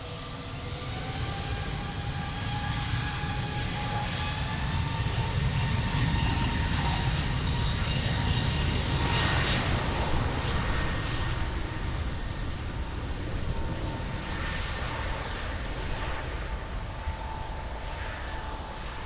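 An airliner takes off from runway 02 at Lisbon Airport, its jet engines producing a loud, sustained roar with whining tonal lines overhead, swelling toward the middle and staying strong throughout.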